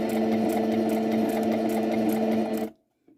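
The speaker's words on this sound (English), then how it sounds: "I'm going to continue sewing until I come to 1/4 inch from the bottom here" A sewing machine stitches fabric for Easter bunting in a steady, close whir that stops abruptly near the end, followed by a faint soft rustle.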